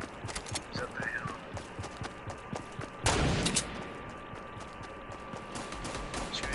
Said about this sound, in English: Oh, they are shooting.